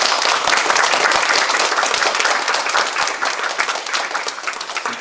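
Congregation applauding at a church ordination ceremony, a dense burst of many hands clapping together, loud at first and easing slightly toward the end, with no speech over it.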